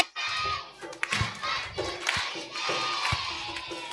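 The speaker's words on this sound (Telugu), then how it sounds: "నా చిన్ని చేతులు ఎస్ఐకై చప్పట్లు కొడితే" Children at a Vacation Bible School final-day program clap their hands in uneven bursts during an action song, mixed with a noisy crowd of young voices shouting and singing close by.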